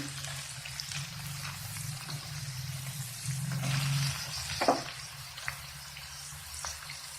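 Onions and green chillies fry in hot oil for a mutton keema curry, a steady close sizzle and hiss throughout, broken by a brief clink and stir partway through.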